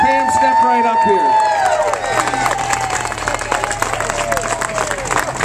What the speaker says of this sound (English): Let's give both Jake and his mom, Pam Reynolds, a wonderful round of applause.